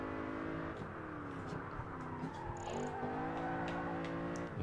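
Car in Project Gotham Racing 4 on Xbox 360 holding a power slide, a steady engine whine with shifting pitch sweeps and gear changes, continuous and fairly close, no talk.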